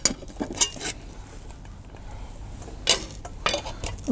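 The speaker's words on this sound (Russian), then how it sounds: "Из большой кастрюлечки-то мы достаем маленькую кастрюлечку." Nested metal camping pots from a Fire Maple FMC-F4 cookware set knock and clink against each other in a few bright bursts, close by, with shuffling handling noise in between.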